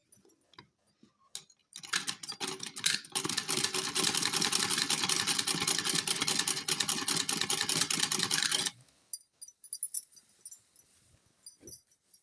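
A sewing machine stitches thick padded fabric for a seat used during worship, running steadily and fairly loud for several seconds with no talk over it, then stopping.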